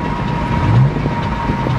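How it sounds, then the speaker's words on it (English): A passing car revs its engine on a road while driving around town, a loud, steady mechanical rumble with a low growl that swells briefly in the middle, heard alone without talk. "Random car just revving his engine."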